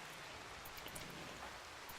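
Steady rain hisses in an even, unbroken wash in the colony-building game RimWorld, faint and continuous with no voices over it.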